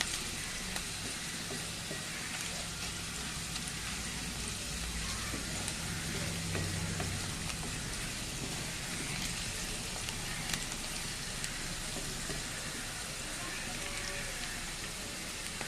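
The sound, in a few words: frying onions with turmeric and salt in pan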